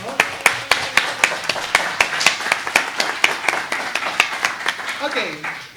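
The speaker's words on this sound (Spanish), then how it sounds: "Un aplauso, por favor." Audience at a philosophy colloquium in Mexico claps in an even rhythmic beat, sharp repeated hand claps over several seconds with a murmur of voices underneath.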